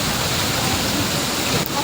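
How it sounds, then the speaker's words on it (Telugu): Heavy rain falling hard on a road, a loud, dense and unbroken roar of water close by, with a brief dip near the end. "ఫుల్ వర్షం పడుతుంది"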